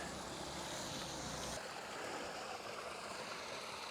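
Water rushing through roadside ditches after heavy rain, a steady turbulent wash with wind noise on the microphone; a louder low rumble in the first moments drops away abruptly, leaving the flow alone.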